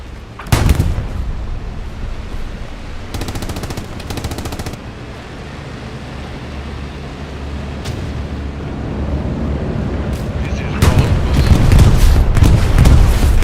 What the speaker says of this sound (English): That is an amazing bombing run.